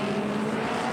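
A BMW race car drives at the 24 Hours of Spa, its engine a steady, loud droning tone held throughout the short moment, with no voices.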